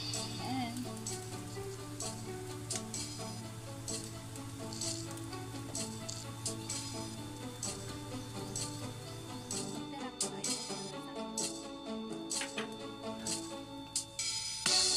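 Cheese fried rice sizzles and fries steadily in a pan as spring onion is added, a continuous crackling hiss with occasional stirring scrapes throughout.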